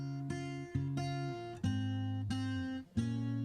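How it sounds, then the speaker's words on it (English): Raw, unprocessed acoustic guitar playing a pop song's signature hook, with clear plucked chords changing every half second or so, recorded close and played alone at a soft level. "So the main kind of instrument or theme of the song was this acoustic guitar."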